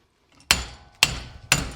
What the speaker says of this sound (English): I need a bigger hammer.